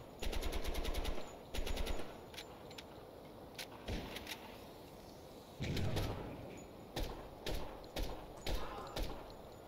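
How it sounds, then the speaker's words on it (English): Gunfire and weapon fire in the tactical shooter Door Kickers 2, with an AT4 rocket launcher fired amid it: sharp repeated bursts of shots in short clusters, loud and close, with quieter gaps between them. "AT4 going out."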